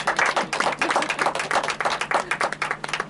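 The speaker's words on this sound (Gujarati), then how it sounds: "પ્લીઝ એમને તાળીઓથી વધાવો." Clapping from an audience at a literary society medal award ceremony, greeting the recipient with a steady, fairly loud burst of many hands lasting a few seconds.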